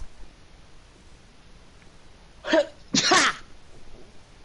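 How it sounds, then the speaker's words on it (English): Two quick sneezes burst out close by in a quiet room, a short first one followed half a second later by a stronger, longer one, with faint background hiss around them. "I just sneezed."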